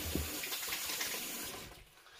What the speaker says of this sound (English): just rinse the hands